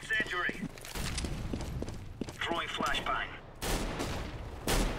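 Mag 7 shotgun blasts and other gunfire in a CS:GO pro match at Katowice 2015, with several loud percussive shots and bursts, some close together, under excited caster commentary.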